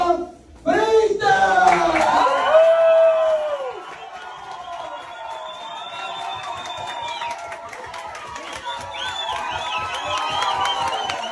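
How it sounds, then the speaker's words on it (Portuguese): A crowd cheers and applauds as boxer Acelino Popó Freitas makes his entrance, with a loud burst of shouting and clapping at the start that settles into a sustained roar with whistles. "De palmas, ele, o mão de pedra, Acelino Popó Freitas!"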